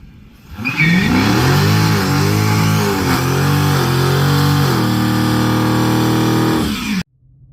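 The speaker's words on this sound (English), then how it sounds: "So now you just hit the gas and have fun." A car engine revving hard with line lock engaged, a loud, sustained close roar rising and wavering in pitch for about six seconds, then cutting off abruptly.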